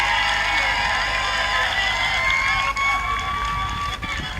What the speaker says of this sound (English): More claps for the Honorable Minister.